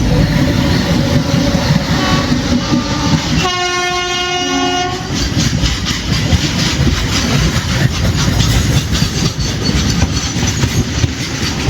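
The Tirupati Express, a Chennai to Tirupati passenger train, rumbles loudly and steadily on its rails. A long horn blast sounds near the start, and the clatter of the cars carries on throughout with no voices.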